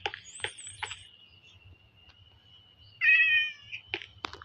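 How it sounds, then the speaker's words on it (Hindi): Cat meowing in the Minecraft video game, a few short game meows followed by a longer, louder drawn-out mew, heard alone over faint background ambience. "अच्छा बिल्ली थी"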